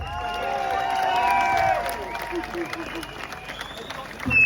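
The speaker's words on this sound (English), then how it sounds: "I think they deserve a massive round of applause" Audience applause and cheering at a survivors' justice event, a crowd clapping with voices and whoops that peaks and then tapers off, with people talking through it.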